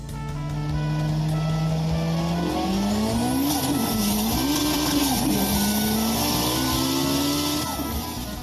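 Toy race car driving effect: a loud, continuous engine whine that rises and wavers in pitch, with tire squeal and skidding layered over it, steady throughout with no voices.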